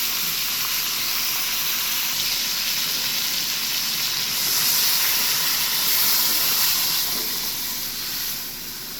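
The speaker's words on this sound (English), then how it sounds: "Alright, so we add the beef broth." Beef broth poured into a hot pot of browned Jamaican oxtails, giving a loud, steady close sizzle and steaming hiss that swells midway and then eases slightly.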